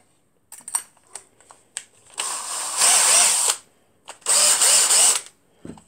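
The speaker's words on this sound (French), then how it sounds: "Alors ça veut dire qu'il va falloir que je lui perce des trous." A hole is bored with a 10 mm bit while making a pencil holder, heard as a few light clicks and taps followed by two loud, close whirring drilling bursts, each lasting about a second, separated by a brief pause.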